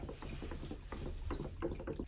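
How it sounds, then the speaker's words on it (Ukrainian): Water trickles and drips steadily from below through a car's windshield cowl drain, a faint running splash with small irregular gurgles and drops. "Можна почути, що вже знизу стікає."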